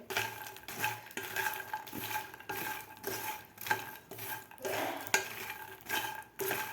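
Roasted makhana is stirred with spices in a bowl, giving repeated rustling scrapes and light clattering strokes in an uneven rhythm, close and moderately loud.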